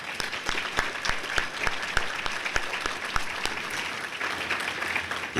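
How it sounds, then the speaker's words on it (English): Applause for inducted entrepreneurs at a Society of Entrepreneurs dinner, a steady round of clapping from the room with a few sharper nearby claps standing out, lasting throughout at even loudness. "honor you with a little round of applause"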